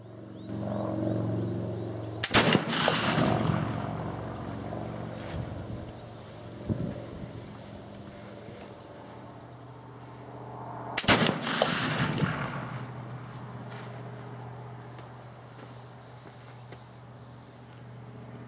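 Two loud black powder flintlock gunshots, well spaced, each a sharp crack followed by a long rolling boom that fades out over a windy outdoor background.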